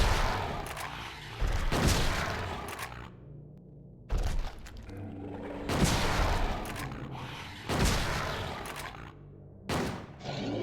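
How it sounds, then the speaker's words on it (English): A shotgun fires repeatedly during a boss fight in Silent Hill 2, with about six loud, close blasts at irregular intervals, each dropping into quieter game ambience between shots. "we're going to grab our shotgun"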